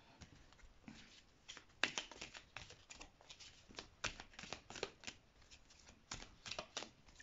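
Tarot cards being shuffled and drawn by hand, a quick run of crisp riffling flicks and slaps in uneven bursts, close and fairly quiet, with no talking.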